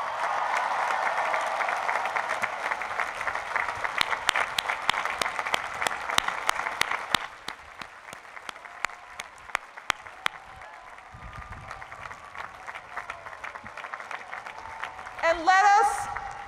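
Large university commencement audience applauding graduates' parents at the 2015 University of Pennsylvania ceremony, steady dense clapping that thins and fades midway, with scattered claps and a brief cheer or whistle near the end.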